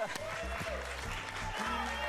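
An audience claps in a burst of applause at a French slam poetry event, steady and moderately loud, with a voice audible over the clapping.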